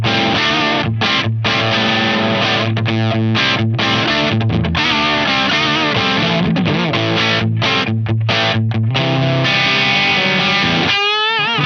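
Electric guitar played through a DOD250 overdrive pedal set as a clean boost, gain fully down and level up, giving a loud, mildly distorted sustained riff of chords and single notes that ends on a fading strummed decay.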